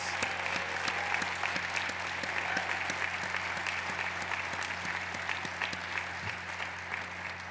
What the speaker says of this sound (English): Let's give our staff a big round of applause.